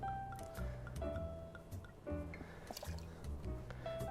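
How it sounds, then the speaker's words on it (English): Tawny port, a 12-year-old, is poured from a bottle into a cocktail mixing glass for a Manhattan, giving close, soft trickling and dripping liquid sounds in short uneven bursts with light clinks. "Next ingredient will be 10 mils or 1/3 ounce of a tawny port."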